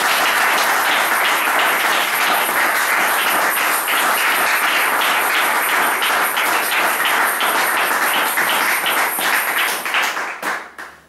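A church congregation applauding in praise, dense steady clapping that fills the space loudly for about ten seconds before tapering off, with no voices over it.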